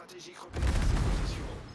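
Enemy ship gunfire in the World of Warships naval battle game, a Shimakaze destroyer under fire: a faint crackle gives way to a heavy, rumbling boom that rolls on and slowly fades.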